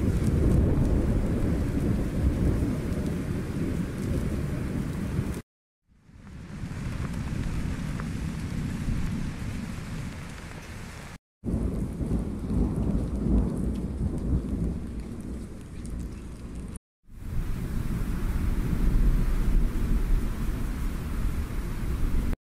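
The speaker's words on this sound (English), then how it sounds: "let's try soft rain with distant thunder. So it generates a custom ambient effect using AI." Soft, AI-generated rain with distant rumbling thunder plays as four separate steady ambient samples, each cut off by a brief silence before the next begins.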